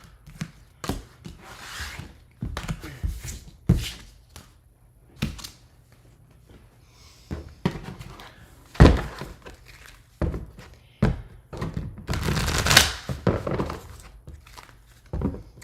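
Tarot cards being shuffled by hand, a run of dry thunks, rubs and riffling rasps in irregular bursts, fairly close and alone with no talk.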